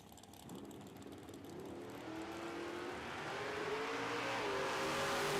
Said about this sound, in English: Tom Strain left side, dialed 465 in the Dragster, taking on Mike Donnell, dialed 637.